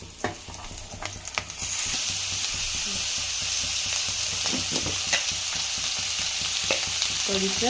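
Black-eyed pea curry frying in a pan until golden brown, a loud continuous sizzle with intermittent stirring scrapes, briefly under a voice.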